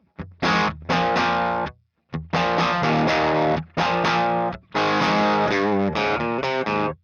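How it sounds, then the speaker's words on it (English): Electric guitar played through a StewMac Ghost Drive overdrive pedal set as a clean boost, gain low and output up, ringing chords in short phrases separated by brief pauses, with no talking. "One of my favorite ways to use an overdrive is just as a clean boost. Gain down, the output up, and the treble to the middle."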